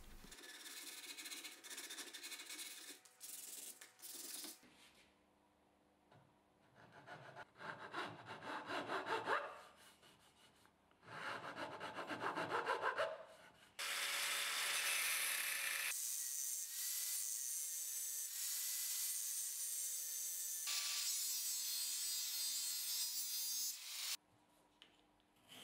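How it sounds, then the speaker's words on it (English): A bandsaw cuts a channel into a plywood wheel in several passes, with rasping bursts of blade through wood separated by short pauses and a sustained motor whine, close and fairly quiet overall, no voices. "I make a canal with a bandsaw for the sandpaper and the plywood wheel."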